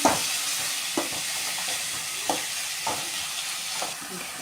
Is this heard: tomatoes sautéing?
yes